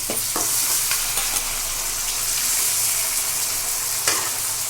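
Tomatoes fry in a pan for semiya upma, a steady close sizzle with occasional light stirring taps and scrapes, continuous and unaccompanied by voices.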